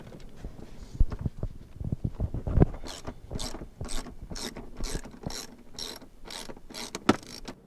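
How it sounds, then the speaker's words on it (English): A ratchet wrench clicks in quick repeated strokes while loosening the floor bolts of a Toyota Hiace van's driver's seat, close and fairly clear, with some clunks and knocks mixed in. "The first step here is to remove the driver's seat with 4 bolts, 2 on the front, 2 on the back"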